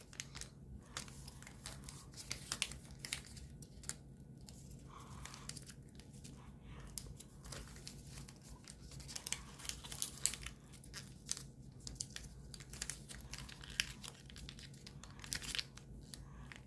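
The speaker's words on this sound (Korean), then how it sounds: "그 다음 한 번 더 가운데 맞춰서 접어줍니다." Sheets of paper being creased and folded for an origami ninja spinning top, giving soft, close crinkling and rustling that repeats in quiet bursts throughout.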